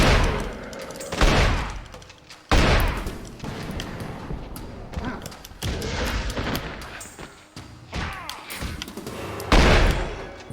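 Gunfire in The X-Files: Resist or Serve video game comes as irregular heavy shots and booming blasts spread across the span, loud and echoing with rumbling tails, mixed with other in-game thuds and clatter.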